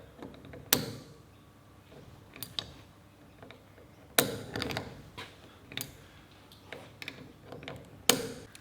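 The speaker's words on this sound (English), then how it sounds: "I'm going to use a spanner to see if I can open it up" Metal clicks and ratcheting clatter from a spanner working at a drain plug on a 30-year-old Land Cruiser, with a few sharp loud knocks spaced apart over quiet background.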